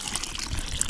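Water splashes and trickles into a camp pot half full of forest mushrooms, a brief, soft, steady pour close by.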